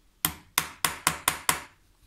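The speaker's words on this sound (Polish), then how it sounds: "zalecam przyklepanie tego ogniwa tego typu drewnianym młoteczkiem" Six sharp, evenly spaced taps of a small wooden mallet on a link of a Seiko SKS610P1 watch bracelet, each a crisp close knock with a short decay, alone with no talk.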